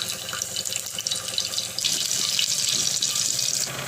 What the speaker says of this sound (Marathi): आता ही मेथी आपण छान धुवून घेऊया।